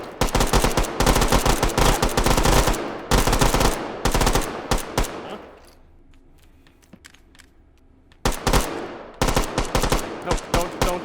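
Bursts of rapid automatic gunfire from Sosig agents fighting in H3VR, loud and dense, breaking off into a quieter lull for a few seconds before another volley resumes.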